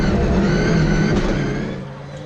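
Rallycross car accelerating hard through a right-hander, a loud, close engine roar that fades away over a couple of seconds, with commentary audible underneath.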